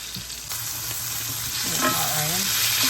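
Tuna patties made with mozzarella frying in a pan, a steady close sizzle with a few stirring scrapes and a short faint voice partway through.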